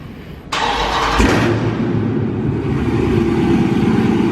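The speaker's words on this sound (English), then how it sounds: "Get this cold start in for y'all real quick." A 2019 Dodge Charger Scat Pack engine cold-starts with a sharp crank and a loud burst of revs, then drops to a steady, deep, rumbling idle. The car is close by and no one speaks over it.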